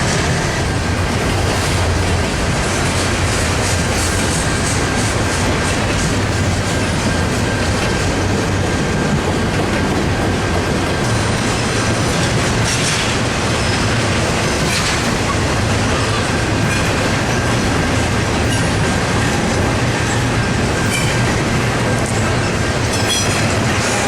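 A Norfolk Southern freight train rolls past in a steady, loud, continuous roar of wheels and cars, with faint clickety-clack rhythm and a thin sustained squeal over the rumble, no voices.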